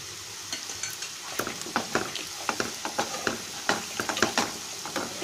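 Instant raw mango pickle being stirred in a pan, with a steady run of scraping, clinking spoon strokes and a faint sizzle underneath, close and moderately loud, no talking.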